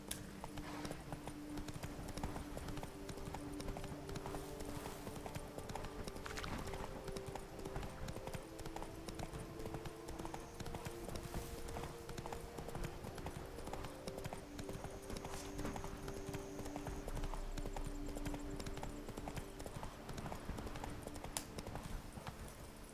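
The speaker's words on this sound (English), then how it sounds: "Not so fast, Roach" Horse hooves gallop on in The Witcher 3 video game, a rapid steady clip-clop that runs throughout, moderately loud over a low background music bed.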